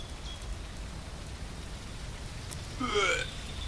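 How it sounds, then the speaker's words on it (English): Soft, even rainfall patters in a zombie survival video game, a faint steady hiss that runs throughout, briefly joined near the end by a short rising tonal effect. "And it's starting to rain."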